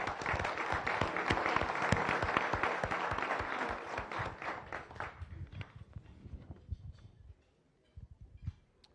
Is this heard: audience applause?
yes